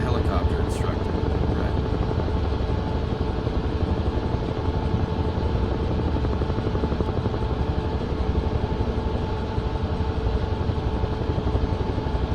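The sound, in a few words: helicopter rotor in Microsoft Flight Simulator 2024 video game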